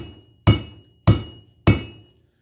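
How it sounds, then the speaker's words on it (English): A big hammer strikes a cable ferrule on an anvil three times, each blow a sharp, close, ringing metallic whack spaced about half a second apart, while the snare cable is being crimped shut. "you lay it on your anvil, and you take your big hammer, and you give her a few whacks"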